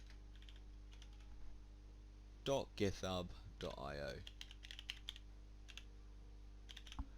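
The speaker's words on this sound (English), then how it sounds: "I've probably just heard me typing it" Quiet clicking of keystrokes on a computer keyboard, a short burst of typing alongside a voice entering a web address for a Kerbal Space Program planner.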